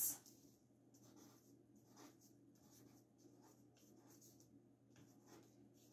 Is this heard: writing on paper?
yes